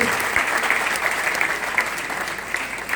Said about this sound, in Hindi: एक बार जोरदार तालियां बच्ची के लिए प्लीज।